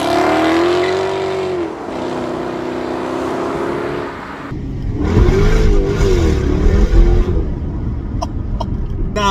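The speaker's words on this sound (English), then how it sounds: "the supercharged 5-litre V8 starts coming to life" A Jaguar XKR X150 facelift with its supercharged 5.0-litre V8 (503 bhp) revs close by, a sustained engine drone that shifts in pitch, then surges louder and rougher midway before settling, with a few clicks near the end.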